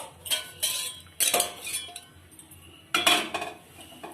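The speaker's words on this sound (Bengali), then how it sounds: "গ্যাসটা জ্বালিয়ে নিয়ে পেস্টিসটা বসিয়ে দিচ্ছি" A Prestige pressure cooker is set down on a gas stove with several metallic clanks and rattles in irregular bursts, loud and close, separated by short quiet gaps.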